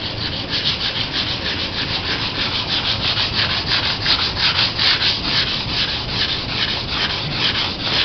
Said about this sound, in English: Time to sand it now.